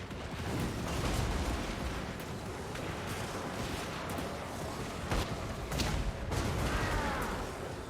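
Cannon artillery fire in the battle game Total War: Warhammer 2, heard as repeated booming blasts over a dense, constant roar of combat noise.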